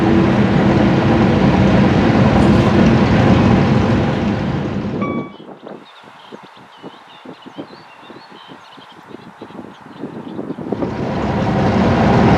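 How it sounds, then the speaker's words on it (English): A brand-new Class 805 Intercity Express train rushes past a train on the Stafford to Crewe line, heard from the driver's cab as a loud, broad roar that suddenly drops to a quieter rattle, then swells again. "Brand new Class 805 Intercity Express train passes us"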